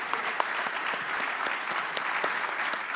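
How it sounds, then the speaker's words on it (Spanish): Steady applause from a gala audience honoring a member at an annual partners' meeting in Asturias, dense and continuous with scattered sharper claps across the whole stretch. "fuerte aplauso para ella"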